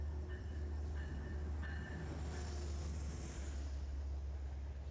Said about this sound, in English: Here's the Conrail Wrapped Genesis.